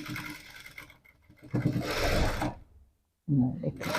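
A sewing machine runs in short bursts while stitching a blouse hem, with gaps and a brief silence between runs, close and moderately loud, and a voice talking over parts of it.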